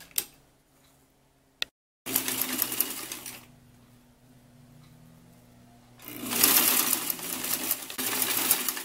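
A sewing machine stitching a jumpsuit seam in two runs of rapid whirring, each with a steady hum, separated by a quieter pause and preceded by a few isolated clicks.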